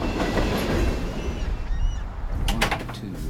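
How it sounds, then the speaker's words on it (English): A train rumbles steadily through the small town of Abbott, Texas, with a continuous loud rolling roar and clatter, close by, and horn-like honks near the end. "a train that comes through every hour"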